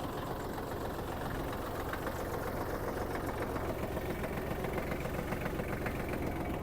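Kubota GL-25 Japanese mini tractor engine running steadily at a constant idle-like pace, a continuous mid-low diesel drone with a faint rhythmic knock, close by and alone with no talk.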